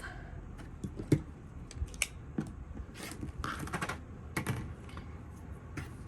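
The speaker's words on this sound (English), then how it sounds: "I'm going to cut one of these strips" Fabric strip for a quilt being cut in half, heard as a run of quick, crisp snips and light rustling taps close by, with no talking.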